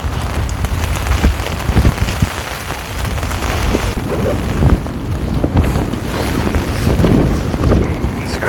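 A wind and rain storm batters a tent campsite, with gusts buffeting the microphone and rain pattering hard on the fabric in an uneven, loud, close roar with no talking.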